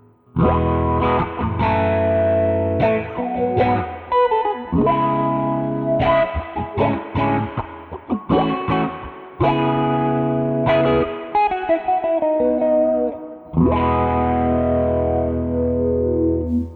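Distorted electric guitar chords through an Old Blood Noise Float dual moving filter pedal, swirling and sweeping as it opens and closes rhythmically, loud and continuous with short gaps between strums.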